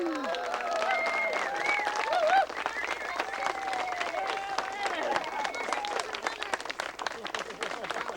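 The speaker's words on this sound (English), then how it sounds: "I'd like to propose a round of applause for Mark, Becky, and Maureen" Lively applause from a group gathered at a 2002 reunion dinner, with clapping and cheering voices mixed with crowd chatter and talk over it.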